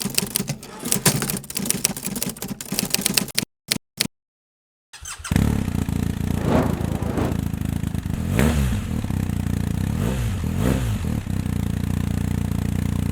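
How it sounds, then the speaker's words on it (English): BMW R1250 GS motorcycle with its stock engine, first heard as a rapid mechanical clatter broken by short dropouts, then a steady idling rumble with a few rising revs, close and fairly loud with no talking. "The bike's stock engine sound is mellow."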